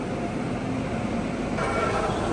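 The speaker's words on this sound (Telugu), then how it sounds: "ప్లాట్ఫామ్ నెంబర్ 1కి WAG 9H లోకోమోటివ్తో ఐసీఎఫ్ కోచెస్తో ఒక ట్రైన్ వస్తుంది." A Vijayawada–Hubli Express hauled by a WAG 9H electric locomotive with ICF coaches rolls into platform 1, a continuous broad rumble and rattle heard close by at constant loudness.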